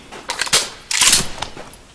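Sniper rifle gunshots in the video game Special Force 2, two sharp loud cracks about half a second apart, each followed by a short mechanical rattle, with no voices.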